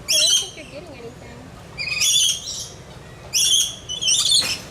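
Small birds at a wild animal park give three bursts of high, bright chirps and twitters, close by, with quieter murmuring and background noise between them.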